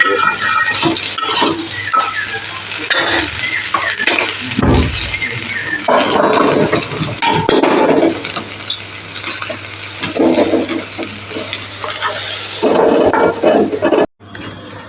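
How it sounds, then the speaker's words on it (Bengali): Fried soybean chunks are stirred in a wok, with a spatula scraping and clinking against the pan in irregular bursts over a steady sizzle of hot oil. "সয়াবিনগুলো প্রায় ভাজা হয়ে গেছে এখন এটাকে একটু নাড়িয়ে তুলে"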